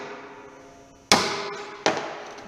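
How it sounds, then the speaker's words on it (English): Two sharp metallic hammer strikes on an impact screwdriver loosening a screw on a Peterbilt 352 truck, about a second apart, each ringing briefly before fading. "So you hit it with a hammer."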